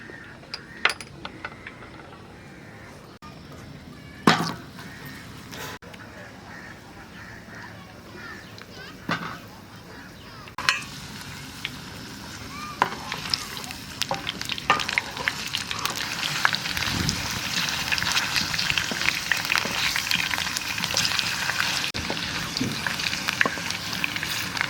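Potatoes go into a hot pan with sugar cooked until red and garam masala, with a few sharp clinks at first, then a sizzle that grows louder and denser toward the end.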